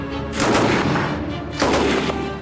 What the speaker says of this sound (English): This is the Lewis gun